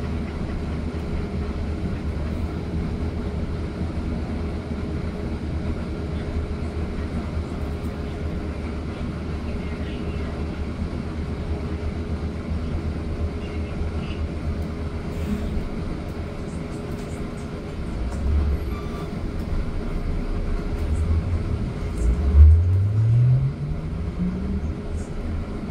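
Steady low electric drive hum and road rumble aboard a 2024 New Flyer XE40 Xcelsior CHARGE battery-electric city bus in New York, with a rising whine near the end as it accelerates.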